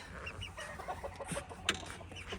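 Young chicks, including Spitzhauben, cluck and peep in quick, uneven bursts at close range, with a sharper chirp near the end.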